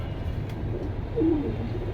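A pigeon at a bird seller's stall gives a soft, low coo partway through, over a steady murmur of background noise.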